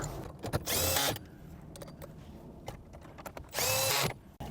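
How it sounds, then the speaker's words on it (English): A power drill whirs in two short bursts, driving bolts into the dashboard of a Toyota Crown, with quiet handling noises between the runs. "let's use the power tool for the other two."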